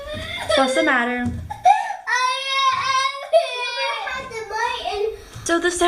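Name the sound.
children crying and talking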